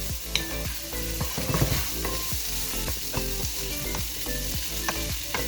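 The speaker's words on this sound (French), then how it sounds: "Allez, on laisse revenir pendant 5 minutes." Sweet potato sautéing in a pan, a continuous close sizzle punctuated by repeated spatula stirs and clicks, fairly loud and without speech.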